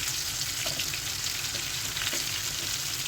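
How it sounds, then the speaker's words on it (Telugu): Prawn bajji bubble and sizzle in hot oil, a steady, dense frying hiss that runs unbroken throughout, with a couple of faint soft clicks beneath it and no voices. "ఇంకొక 5-10 మినిట్స్ నూనెలో మంచిగా వేగాక తీసేసేయాలి"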